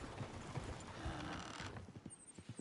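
Horses running in Red Dead Redemption 2, a busy patter of hooves that turns into distinct, evenly spaced clip-clop beats toward the end, with no speech.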